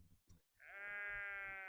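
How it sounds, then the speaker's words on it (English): A single sheep lets out a long, sustained bleat on a country walking trail in the Teifi Valley, loud and close, following a couple of brief soft sounds and low rustling. "But that's sheep."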